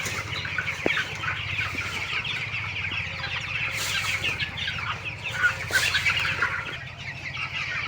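Broiler chickens in a poultry farm shed cluck and murmur continuously at moderate distance, a dense flock chatter with occasional louder squawks and no talk.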